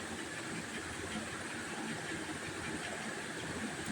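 Water at a rolling boil in a pot set up for steaming idli, a steady, even hiss and bubbling rumble that holds constant throughout with no talk.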